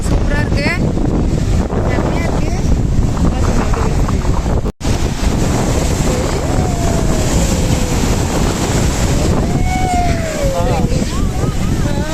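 Sea waves break on the shore at Thiruchendur near the temple, with a constant roar of surf and strong wind noise as people talk nearby.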